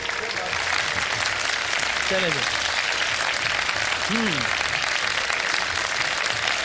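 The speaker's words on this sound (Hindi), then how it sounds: "ऊपर वालों तालियां बजा दो ताकि मैं आ जाऊं आपके पास।" A studio audience at a live Ramadan iftar television show applauds in a steady, even wash while someone speaks over it.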